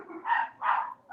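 Puppies barking, two or three short, high yipping barks in quick succession, fairly close and moderately loud with no talk over them.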